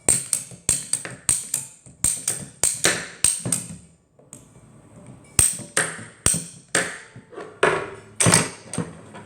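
A crossbow pipe bender working a pipe gives sharp, close metallic clacks with short ringing tails, repeating steadily about twice a second, pausing briefly midway before the ratcheting strokes resume, with no talking.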